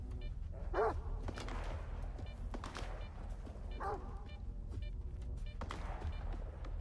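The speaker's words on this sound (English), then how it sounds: "I guess for dogs that's like barking." Mutant dogs in a video game give two sharp barks, a few seconds apart, each followed by a short echoing tail over a steady low rumble of ambient game sound.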